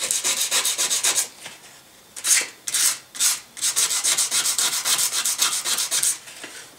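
A blade is hand-sanded with roughly 150 grit sandpaper in quick, rhythmic back-and-forth strokes, close and clear. A few slower, separate strokes break up the run midway, then the steady rasping resumes. No one speaks.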